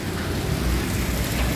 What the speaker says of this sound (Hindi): ये देखिए गाइस कितनी तेज़ बारिश हो रही है